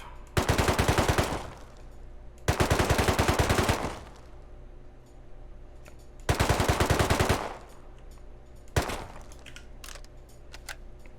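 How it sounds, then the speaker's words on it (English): Automatic MP5 fire in the video game Rust, heard as three long rapid bursts and one short burst, loud and close, with pauses between them. "Hip fire, crouch, and then for the MP5."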